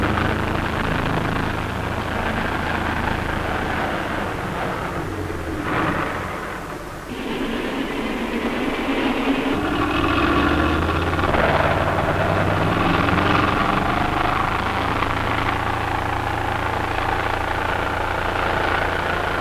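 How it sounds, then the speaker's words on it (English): A CC4 hovercraft's fans supply both lift and propulsion, giving a steady, loud broadband roar with a low rumble that holds for the whole stretch and dips only briefly partway through, with no talk over it. "The CC4 has fans which provide air not only for lift, but also for propulsion."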